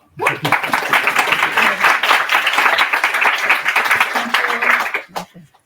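A crowded tutorial room's audience applauds its two speakers with dense, steady clapping that swells quickly, holds for about five seconds, then tapers off.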